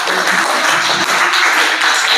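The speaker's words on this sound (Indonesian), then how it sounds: "Tepuk tangan dulu." A classroom of students applauds together at the end of a lesson, producing loud, dense, continuous clapping throughout.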